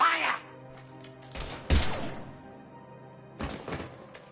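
Gunfire in Mass Effect 3 comes as a few heavy, sharp bursts with pauses between, each a loud thudding crack with a short decay, some layered against in-game dialogue.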